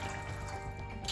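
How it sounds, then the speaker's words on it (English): Warm water poured into a saucepan, giving a steady, quiet, continuous wash of liquid that runs unbroken with no voices. "And then I'm just gonna add some warm water."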